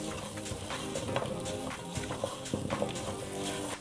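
Pumpkin and chickpea stew being stirred in a pot, a steady wet scraping and bubbling sizzle that runs continuously and close up, with no talk over it.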